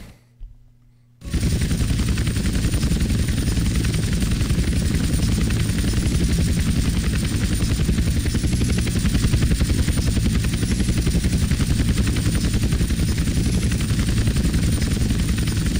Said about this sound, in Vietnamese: anh em bảo lái trực thăng cứ giữ cho chúi đầu là được